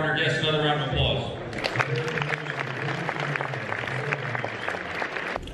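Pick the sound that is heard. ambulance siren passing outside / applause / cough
applause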